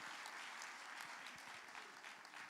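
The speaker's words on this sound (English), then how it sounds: "Clap for yourselves." Audience applause in a community hall at a public hearing, a faint, steady wash of many hands clapping heard from a distance, with no voices over it.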